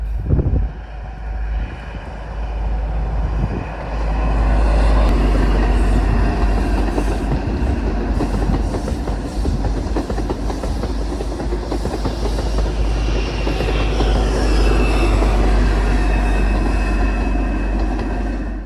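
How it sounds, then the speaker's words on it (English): A Midland Pullman HST charter train runs along the West Highland Line in heavy rain, its loud, steady engine roar and rumbling wheels sustained close by throughout, with rhythmic clickety-clack over the rails. "the charter on this day ran through heavy rainstorms, with another Midland Pullman HST set"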